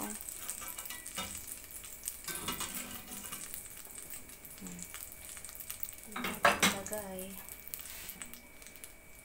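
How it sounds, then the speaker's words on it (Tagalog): Garlic, onion and green chili sautéing in a pan with a steady sizzle, punctuated by clanks of a utensil against the pan and a louder stirring clatter midway, fairly close. "igigisa na natin yung bawang sibuyas sa siling green"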